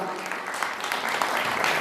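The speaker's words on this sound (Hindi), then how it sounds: "ये भी जोरदार तालियों से बेटियों का हम।" Dense, steady clapping from an audience at a Basant Panchami fair in Uttarakhand welcoming young sportswomen, fairly loud and even with faint voices mixed in.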